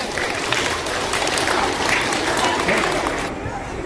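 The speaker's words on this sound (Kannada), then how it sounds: "ಶಾಲೆ ಪರವಾಗಿ ಒಂದು ಜೋರ ಚಪ್ಪಾಳೆ ಮಾಡಿ" A school audience gives steady, loud applause at a grandparents' day celebration, a dense wash of clapping that carries on for several seconds before easing off slightly at the end.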